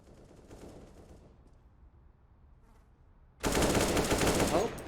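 Rapid gunfire from a Counter-Strike esports match bursts in loudly after a quieter stretch of low rumble and distant shots, a dense sustained volley filling the final second and a half.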